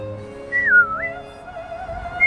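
A single whistled tone slides up and down in pitch, fairly close and clear, with a faint hum beneath.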